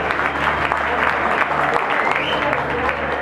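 An audience keeps up brisk, steady applause for a woman named Ortal at an event, the clapping filling the space as someone talks over it.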